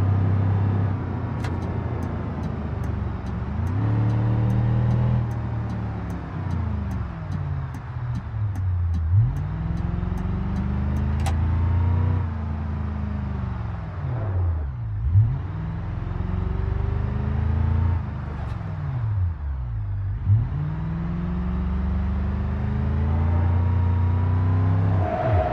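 A car engine in a racing video game played with a steering wheel drones loudly and continuously, its pitch rising and falling in repeated arcs as the car accelerates and shifts, with no talk.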